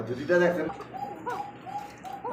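Pigeons at a pigeon sale cooing in a short run of soft, repeated coos, close by, following a brief burst of a voice.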